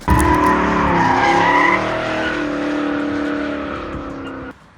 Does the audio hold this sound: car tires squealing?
yes